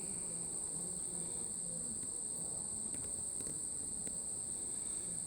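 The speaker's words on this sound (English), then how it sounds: "lots and lots of bees" Honey bees hum around an open hive during an inspection, a dense, steady buzz that stays even and fairly faint throughout, with a high insect whine above it and no voices.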